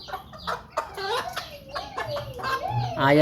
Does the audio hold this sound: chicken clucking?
yes